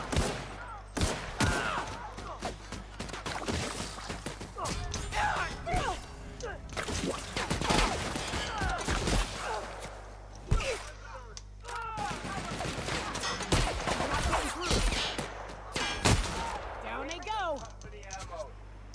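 Gunfire from the player's weapon, fitted with an extended barrel, in the sci-fi shooter The Outer Worlds, repeated sharp shots and short bursts spread across a busy firefight, with someone talking over much of it.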